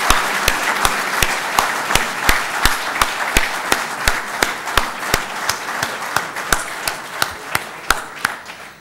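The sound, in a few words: thunderous round of applause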